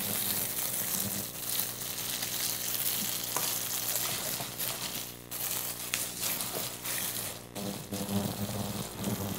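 Food sizzling and crackling in a pan at a cooking event, a continuous busy frying hiss with scraping and stirring noises and occasional clatters, fairly close.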